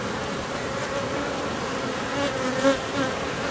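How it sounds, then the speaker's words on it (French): Honeybees swarm around an open hive on Tetiaora atoll in French Polynesia, a dense, steady, loud buzzing drone that fills the space close by. "les abeilles qui sont là, je vais les secouer"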